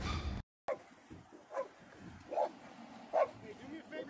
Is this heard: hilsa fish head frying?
no